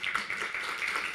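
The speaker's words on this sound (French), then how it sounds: "On va l'applaudir quand même." Brief burst of audience applause at a French corporate business event as a guest is welcomed to the stage, a dense steady patter of clapping hands throughout.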